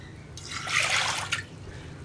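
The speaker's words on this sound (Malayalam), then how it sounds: "അപ്പോൾ ഞാൻ ഇതിലേക്ക് വെള്ളവും കൂടി ചേർക്കട്ടെ." Water is poured into a pressure cooker holding lentils for a lentil, tomato and okra curry, a rushing splash that swells for about a second and then stops.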